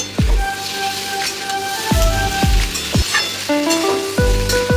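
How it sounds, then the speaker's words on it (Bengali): Potatoes with grated ginger fry in a pan, sizzling loudly and steadily up close while a utensil scrapes and stirs in several distinct strokes, with no voices. "দিয়ে ভালোভাবে আলুটা সব কিছুটাকে ভেজে নেব।"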